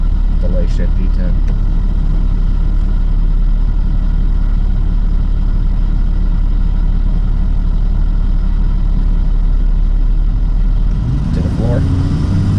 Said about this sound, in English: Do a drive, wide open, pull all the way to D10, delay shift D10.